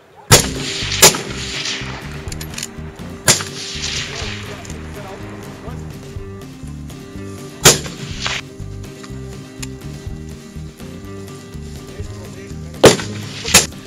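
Loud K31 rifle shots ring out at the Weberschiessen shooting match, several sharp reports spaced irregularly over steady range noise, with voices in the background.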